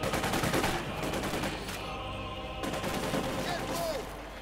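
Machine gun fire and a broader fusillade ring out in a World War II strategy game, with dense, continuous bursts of shots under tank and battle noise, staying loud throughout without pause.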